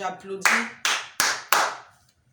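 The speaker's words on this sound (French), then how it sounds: "je vais d'abord applaudir" A single person claps four sharp, evenly spaced times, loud and close, right after a brief bit of talking, then the claps stop and it goes quiet.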